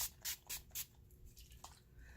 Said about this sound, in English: Alright, so I'm going to spray my face.